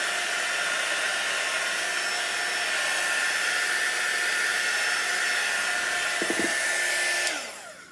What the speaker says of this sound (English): I am just going to dry this as best I can